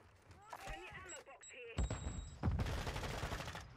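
Shotgun blasts and gunfire in a Call of Duty match, a few sharp bursts and a dense rattle of shots in the second half, with voices talking faintly over the start.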